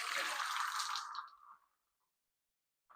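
Water is poured from a Sage machine's tank into a Meraki coffee machine as a close, splashy pour that runs about a second and a half and trails off. A short splash follows near the end.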